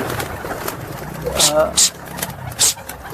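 Native domestic pigeons coo softly in a few short bursts close by, over steady background noise and a low engine hum.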